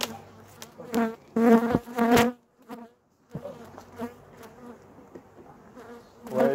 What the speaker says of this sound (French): j'ai quand même une ruche, je pense, une ruche à quelques abeilles